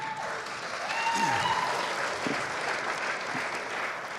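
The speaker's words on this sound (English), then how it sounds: "Big round of applause, please." Audience applause at a startup pitch night investment summit, a steady wash of clapping from a crowd filling the room, moderately loud and continuous.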